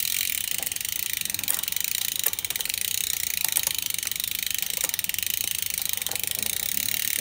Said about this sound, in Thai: ถ้าเราใช้จานใบเล็กแล้วเราขึ้นเฟืองใบใหญ่นะครับขึ้นเฟืองใหญ่นะครับสังเกตว่าตัวจ็อกกิ้งจะเริ่มขบ